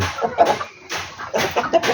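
Chickens cluck close by in several short, uneven bursts, with brief quiet gaps between the calls.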